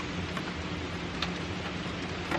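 Steady rain falls outside a camper van on an early morning in Canada, a dense, even hiss of drops with a few brief louder patters, close and continuous with no talking.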